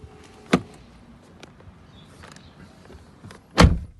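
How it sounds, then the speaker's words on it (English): Door of a BMW 5 Series F10 parked with the engine off, giving two sharp clunks of the latch and door, one early and a louder one near the end, with quiet rustling in between. "Open the door."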